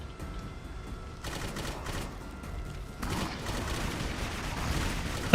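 Gunfire in the first-person shooter Clive Barker's Jericho, dense bursts of rapid shots that grow heavier partway through and continue in a sustained clatter without speech.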